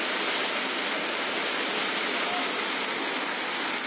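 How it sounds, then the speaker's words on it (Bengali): Steady rain falls on a rainy, darkening evening outside a home, a dense continuous hiss of drops with no breaks, fairly loud and close throughout. "বৃষ্টি শুরু হয়ে গেছে।"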